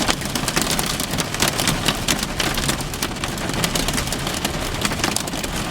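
Hailstones fall during an ice storm in May in Mallorca, Spain, a dense, continuous patter of hard crackling impacts on surfaces, steady and close, with no talking.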